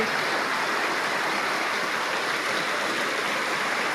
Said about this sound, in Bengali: আজকে সেই বৃষ্টি হচ্ছে